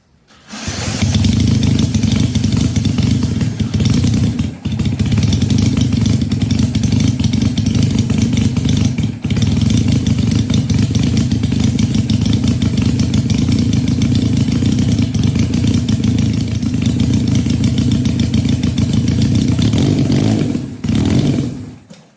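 Supercharged, fuel-injected Honda CL175 motorcycle engine running on E85 fuel, loud and close, holding a steady rough drone with brief dips around five, nine and twenty-one seconds.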